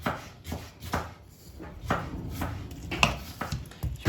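Repeated knife chops slice an onion on a cutting board in an uneven rhythm, close and fairly loud, with short pauses between strokes.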